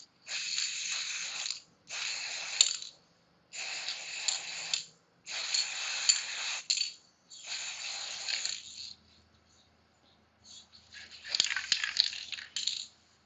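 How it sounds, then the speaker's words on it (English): An aerosol scanning spray can hisses in a series of short bursts separated by brief pauses onto a bar stool's chrome base, close and moderately loud, with a longer gap before the final spray. "you don't need to do too much spray"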